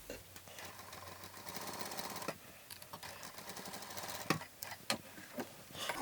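A sewing machine runs steadily in a fast mechanical whir, with a few sharper clicks and knocks mixed in, close and fairly quiet, with no talking.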